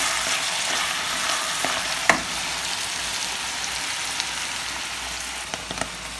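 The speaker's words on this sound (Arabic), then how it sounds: "هنا مازال كنحرك" Fish pastilla filling being stirred in a pan of hot oil, a steady close sizzle and frying hiss with a few sharp clicks of the spoon against the pan, no talk.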